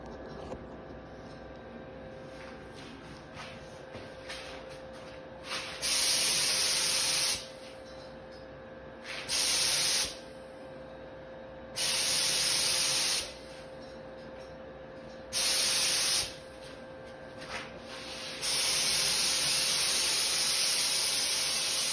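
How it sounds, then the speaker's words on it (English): A paint sprayer spraying Polycrylic finish hisses in several separate bursts of a few seconds each over a steady motor drone, ending in one longer continuous spray. "So I'll show you at the speed that I'm spraying this."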